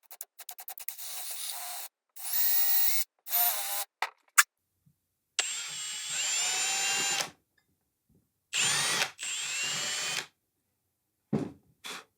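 A power drill bores holes in a Chibson Les Paul guitar with a bit, running in several bursts of high whine separated by silences. A few short clicks and scrapes fall between the bursts.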